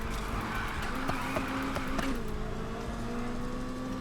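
A car drifting in the racing game NFS Heat, with a steady engine drone and sustained tire squeal, loud and continuous throughout, no voices.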